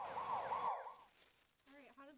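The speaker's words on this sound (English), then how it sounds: "SaveVac ambulance." An ambulance siren wails in a short, loud, rising and falling burst, then cuts away to quieter sounds with a brief tonal call at the end.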